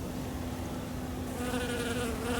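Honey bees buzz around flowers near a hive, a steady close drone that grows louder and fuller partway through as more wings join in.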